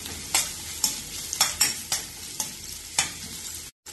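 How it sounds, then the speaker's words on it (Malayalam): Onion, ginger and green chillies being sautéed in a pan with a steady hiss, punctuated by about seven sharp scraping strokes of a spoon at a regular pace, ending abruptly. "ഇതിലേക്ക് ഒരു സവാള ചെറുതായി മുറിച്ചതും ഒരു ചെറിയ കഷ്ണം ഇഞ്ചി ചെറുതായി മുറിച്ചതും 2 പച്ചമുളക് മുറിച്ചതും ചേർത്ത് ഇളക്കി വഴറ്റാം."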